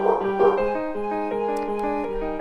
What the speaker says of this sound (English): Please excuse my crazy dog.